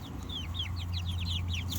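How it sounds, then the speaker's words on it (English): A mother hen guarding her chicks gives a quick series of soft, rising clucks, close but not loud, over a low steady hum. "Mama still keeps guard. She clucks at them"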